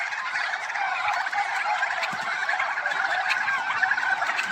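A flock of turkeys just let out on a farm in the morning gobbles continuously, overlapping warbling calls filling the air close by.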